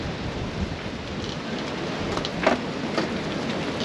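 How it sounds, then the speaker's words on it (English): Strong wind roars steadily and loudly across the microphone at a campsite awning, a dense rushing noise that swells slightly in gusts with no pauses. "So here are the wind gusts."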